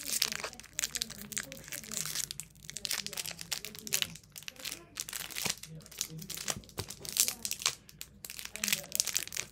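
Pokemon Crown Zenith card pack wrappers crinkle and tear as they are opened, loud close-up crumpling and crackling in bursts, with a person talking over it.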